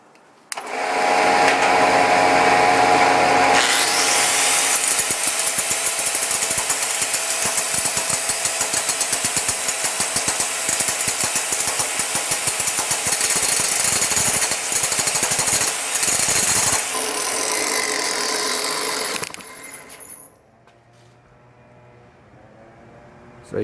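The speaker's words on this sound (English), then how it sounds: "the grinder with the flap disc. Let's see what happens." Angle grinder fitted with a flap disc grinding aluminum, a loud, steady, harsh whine that runs continuously for about sixteen seconds, then winds down and stops, leaving quiet background.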